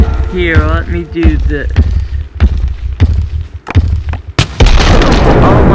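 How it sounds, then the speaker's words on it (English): Minecraft lightning strike during a Wither Skeleton Titan versus Drowned Titan battle, with a loud, sudden crack and booming thunder near the end that follows busy game noise and talk. "the lightning strike killed me"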